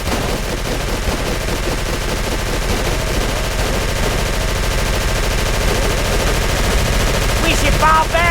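Continuous heavy gunfire in the Call of Cthulhu: Dark Corners of the Earth video game, a dense, loud machine-gun battle that runs throughout with no pause, and shouted voices mixed into the din.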